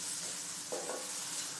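Dry chillies frying in hot oil for a Chinese yam basket dish: a steady, close hiss of sizzling throughout, with a brief soft clink of a utensil partway through and no voices.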